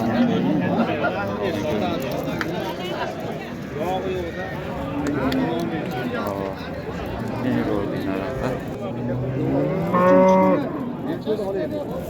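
A cow moos loudly several times at a livestock market in Shahrixon, Andijan, Uzbekistan, the longest call near the end, while people chatter and talk around it outdoors.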